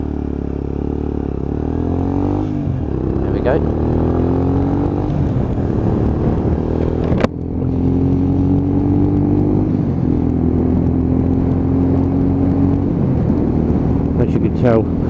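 A Lexmoto ZSX-F 125cc motorcycle engine revs and pulls through rising gears while riding, loud and continuous with wind noise, as a rider talks over it throughout.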